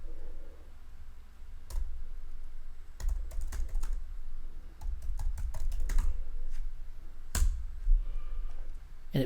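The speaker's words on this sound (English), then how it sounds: "then you can type in text and hit return and it will send it." Typing on a computer keyboard, scattered key clicks and taps in irregular bursts, close by and fairly quiet, with no talking.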